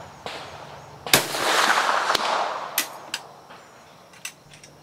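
A Swiss Model 1878 rifle firing 10.4x42R rounds at a 200-yard range: a sharp report followed by a long rolling echo, then scattered fainter cracks, heard outdoors with almost no talk.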